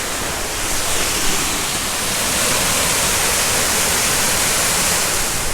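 River Falls waterfall in Shenandoah heard from the top of the falls, a steady, loud, broadband rush of falling water that stays even and unbroken throughout.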